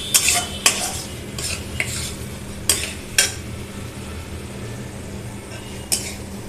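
Spiced cabbage curry being stirred and mashed in a pan, a soft frying hiss underneath with repeated sharp scrapes and clinks of a spatula against metal at irregular intervals; no voices.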